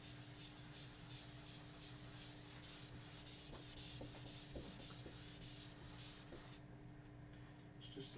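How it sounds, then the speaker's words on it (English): A chalk eraser rubbing against a classroom board during a calculus lecture, making a steady, continuous scrubbing hiss that runs for several seconds, with a few faint knocks near the end. "It just does not want to erase today."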